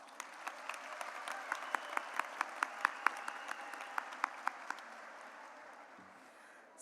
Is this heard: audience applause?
yes